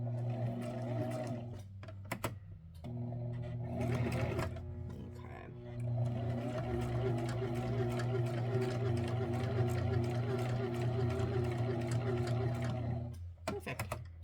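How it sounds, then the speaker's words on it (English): A sewing machine stitches fabric with a steady mechanical whir, pausing briefly twice as it stops and backs up to lock the stitch, then runs continuously for a long stretch before halting. "I'm going to do the same thing, make a couple of stitches, back it up,"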